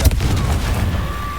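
A Confringo blasting spell explodes in Hogwarts Legacy: a low, rumbling blast with a sustained boomy tail, moderately loud, with no speech during it.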